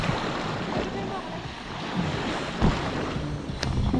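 Rough sea waves surging and breaking in a continuous rushing wash with gusty wind buffeting the microphone, while people talk nearby.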